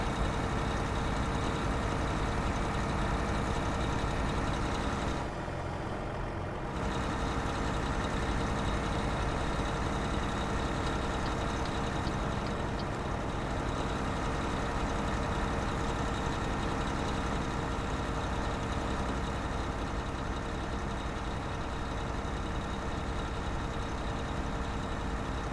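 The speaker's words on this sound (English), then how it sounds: "Engine sound is not different at all when I shift it up." A truck engine drones steadily while driving in American Truck Simulator, a dense constant low hum with brief dips in level around one moment, otherwise unbroken and fairly loud.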